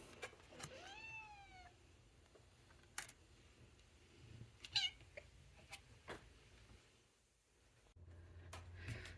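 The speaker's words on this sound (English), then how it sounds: "I had to pet my cat for a little while" Domestic cat meowing near the microphone in a quiet indoor room, with a rising, wavering call early on, followed by scattered soft clicks and small handling noises.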